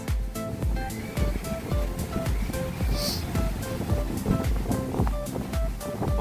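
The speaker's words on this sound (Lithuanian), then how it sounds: "Bet koks štorminis vėjas." Stormy wind buffets a lagoon shore at Dreverna in Lithuania's Pamarys region as waves wash in, a dense, continuous roar with rumbling gusts that stays loud throughout.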